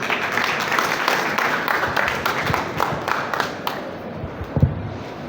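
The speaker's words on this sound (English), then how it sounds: "A huge round of applause for the CEO, Mr. Anuj, Sheikh Anuj." Audience applause at a bank branch opening ceremony, a sustained wash of clapping from a crowd that thins out toward the end, with a few louder claps near the close.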